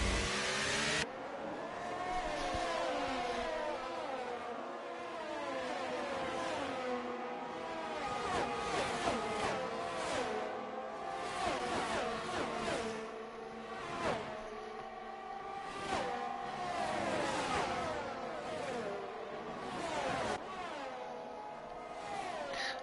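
Formula 1 cars racing at the French Grand Prix in the F1 23 video game, a dense overlapping wail of high-revving engines with rising and falling gear shifts, loud and continuous throughout.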